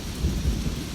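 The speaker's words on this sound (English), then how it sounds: "The way the rain falls, relentless yet gentle, like a lover's touch." Steady rain pours down during a thunderstorm, with low rumbling swells rising and falling beneath a dense hiss over a brief, continuous stretch.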